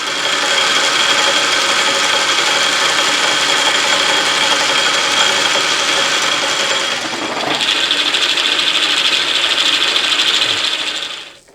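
South Bend lathe running with quiet replacement gears, a steady close whirring and fine meshing whine with a brief shift in pitch partway before spinning down at the end.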